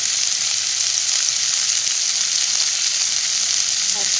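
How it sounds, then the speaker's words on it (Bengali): Spices sauté in hot oil in a pan for a potato and pumpkin chokka, giving off a loud, steady, close-up sizzle that continues without a break and has no talk over it. "এই তো আমার হয়ে গেল কষানো"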